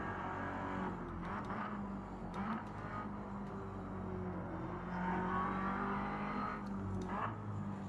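Race car engine in a sim racing game drones steadily at mid volume throughout, with sustained tonal whine and subtle pitch shifts as it accelerates and holds speed, no talking over it.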